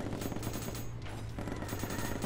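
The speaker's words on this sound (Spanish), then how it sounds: "Esto está lleno de balazos, hermanos." Gunfire in the Pummel Party video game, a dense rattle of rapid shots over a steady low game soundtrack, fairly quiet in the mix.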